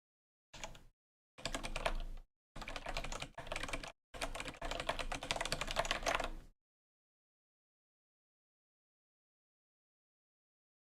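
Fingers rattle across a computer keyboard in several close bursts of rapid key clicks separated by short pauses, then the room goes silent.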